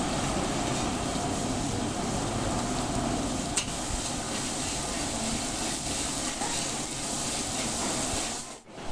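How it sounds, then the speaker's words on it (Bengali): Onion paste frying in oil in a pan, a steady close hiss and sizzle running continuously and fairly loud, cutting off sharply at the very end. "পেঁয়াজটা একটু আগে ভালো করে ভেজে নিচ্ছি"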